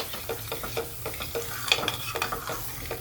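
Masala mixed with gram flour is stir-fried for dhaba-style paneer masala, with close sizzling and quick rhythmic scraping strokes of a spoon against the pan over a few seconds.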